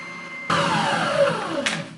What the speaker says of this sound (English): if you don't have an oscillating sander like this